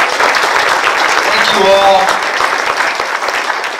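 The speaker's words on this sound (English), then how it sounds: "let's give them a round of applause" An audience at a senior fraud-prevention event applauds its panelists in a loud, sustained round of clapping, with someone speaking briefly over it.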